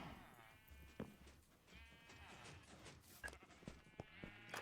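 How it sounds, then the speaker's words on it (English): Sheep on a Minecraft sheep farm bleat in overlapping calls, several animals crowded together at a quiet level, with a soft voice now and then underneath. "My sheep farm is working."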